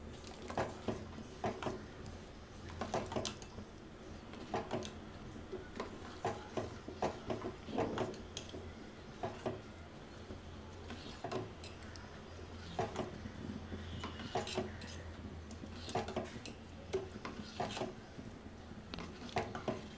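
Boiled chana dal being stirred into rice semolina and jaggery in a pot, a Diwali-style sweet: repeated close scraping, clinking and squishing strokes of a spoon against the pot in an irregular rhythm, with no talking.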